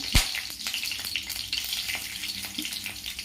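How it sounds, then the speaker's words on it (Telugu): Cloves, cinnamon stick, bay leaf and cumin frying in hot oil in a pan, giving a close, continuous crackling sizzle with a sharp clack near the start and light stirring sounds. "ఇవన్నీ ఒకసారి బాగా ఫ్రై చేసుకోవాలి"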